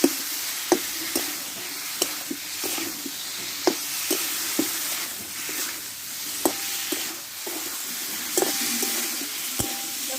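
Vegetables with spices sauté in a pan for a vegetarian potato, pointed gourd and drumstick-stem curry. A continuous sizzle runs under repeated sharp knocks and scrapes of the stirring spoon. No one speaks.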